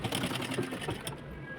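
Sewing machine stitching blouse fabric along a marked line, a fast rhythmic whirring run close by that stops near the end, with faint background sounds.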